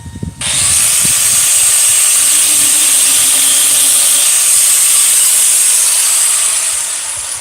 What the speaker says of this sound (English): I used my grinder, so I'm gonna do that again.